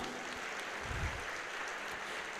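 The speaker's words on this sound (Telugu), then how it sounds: "సంతోషంగా మన సంతోషాన్ని వ్యక్తపరుస్తూ గట్టిగా చప్పట్లు కొడదామా?" A crowd claps at a church jubilee gathering in Vijayawada, a soft, distant-sounding patter of applause that runs evenly for a couple of seconds.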